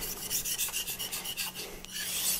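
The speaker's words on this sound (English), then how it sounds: "I'm going to sharpen it at 15 degrees." A $15.99 knife blade rasps in repeated strokes across a wet whetstone at 15 degrees, a rhythmic scraping that slows briefly before resuming, close and fairly loud.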